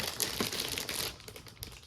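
Plastic bag packaging from a SEGA Dreamcast console crinkles and rustles close up in a steady, busy stream for about two seconds, with no talking.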